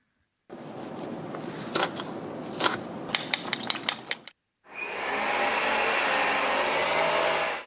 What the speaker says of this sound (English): They can tell that you started up a vacuum